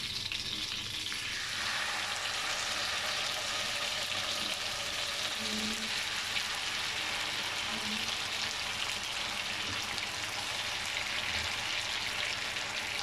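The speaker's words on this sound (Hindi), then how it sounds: "अब हम आंच को लो कर देते हैं और आहिस्ता से स्क्यूवर शामिल करते हैं।" Chicken malai boti skewers frying in hot butter and oil over low heat, a steady dense sizzle that continues evenly throughout, with no voices.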